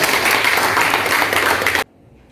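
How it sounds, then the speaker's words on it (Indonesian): In a classroom, a group claps for a student named Jesse in one loud, brief burst that cuts off abruptly into near silence. "tepuk tangan untuk Jesse"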